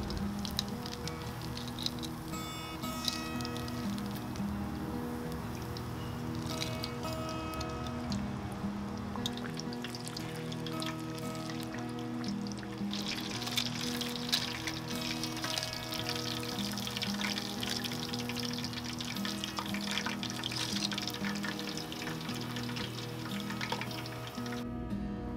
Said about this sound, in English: Heat the oil to 300 to 350 Fahrenheit and cook the pork 3 minutes each side